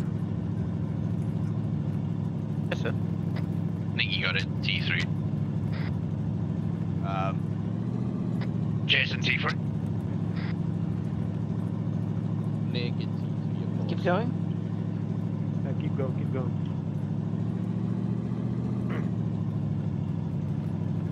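A vehicle engine drones steadily throughout while driving in Arma 3. The hum is low and continuous, with scattered shots and voices heard over it.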